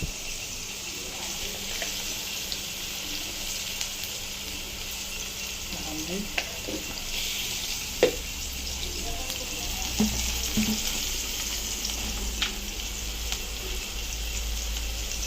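Onion frying with turmeric and salt gives a continuous, even sizzle close by, broken by a few small clinks and stirring knocks, with no talking.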